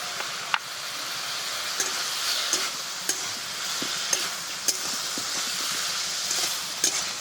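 Crushed ginger frying and being stirred in a pan for a fish and gourd-shoot chochori, giving a steady sizzle throughout with sharp scraping clicks of a spatula every second or so; no talking.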